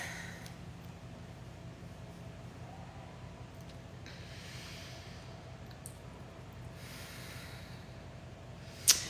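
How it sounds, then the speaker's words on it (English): Slow, deep breathing during a relaxing yoga session: soft, faint inhales and exhales drifting in and out over a quiet room, ending with a sharp click. "Continuing that nice long deep breathing."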